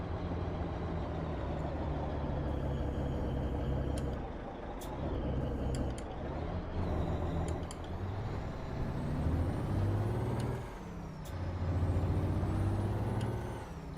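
An old Mack R truck with a 285-horsepower engine and 13-speed gearbox, driven in American Truck Simulator, gives a steady loud engine drone that rises and falls with gear changes, with short sharp air-brake hisses and clicks.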